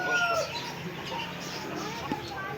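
Chickens cluck softly amid a busy background of murmured voices and farmyard noise, with a few brief higher calls scattered through.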